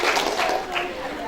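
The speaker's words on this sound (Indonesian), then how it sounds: "Boleh tepuk tangan lagi buat Mbak Aziza Bu." An audience of women at a posyandu health gathering applauds a speaker, with continuous clapping mixed with a voice talking over it.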